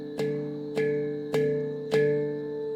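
One-handed flams struck with relaxed fingers on the shoulder of a handpan: four evenly spaced double-hit strokes, each leaving a bright metallic ring that sustains between strikes, close and clear.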